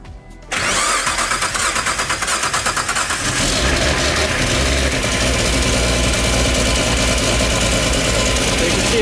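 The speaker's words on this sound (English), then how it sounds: "All right, we're gonna start this thing." A Nissan GT-R engine that had sat unused for five years cranks and fires after a brief silence, then settles into a loud, steady, rumbling idle close by.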